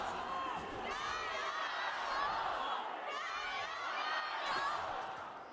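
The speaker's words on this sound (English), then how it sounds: "Okay, so this crowd is alive and kicking." A packed esports arena crowd at an LPL Spring Split League of Legends match cheers and shouts steadily, with loud swells of whooping rising and falling throughout.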